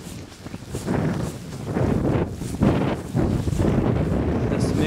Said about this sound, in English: This mix of sleet and snow is stinging on our faces.